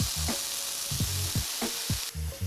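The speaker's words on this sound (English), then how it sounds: "One by one, swish your pork slices in the marinade just before adding it to the pan. Let it cook for about 2 minutes." Marinated ginger pork slices sizzle steadily in a hot pan, with a continuous frying hiss and a few brief clanks or scrapes along the way, close and fairly loud with no talk.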